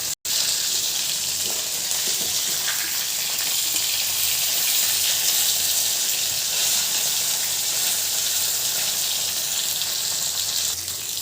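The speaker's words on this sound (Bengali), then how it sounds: "মাছ ভাজা হয়ে গেছে এক সাইড, আর এক সাইড উল্টে দিচ্ছি।" Fish frying in hot oil in a pan as the pieces are turned over, a steady loud hiss and crackle that runs without a break, with no talking.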